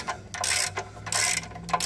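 Ratchet clicking on tight studs of a 2012 Nissan Altima 2.5L during CVT transmission removal, several quick bursts of sharp metallic ratcheting close up, with short pauses between strokes.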